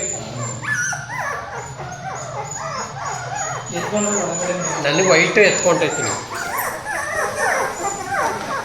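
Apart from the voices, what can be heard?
puppies whimpering and yipping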